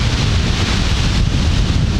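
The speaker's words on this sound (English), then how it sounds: "you can see how windy it is" Strong wind blows across an open golf course, buffeting the microphone with a loud, continuous roar and no break.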